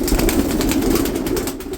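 Pigeons in a coop on a snowy winter morning coo in soft, rolling bursts close by, with faint wing flutters and no talking.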